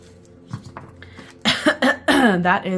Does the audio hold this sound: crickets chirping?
no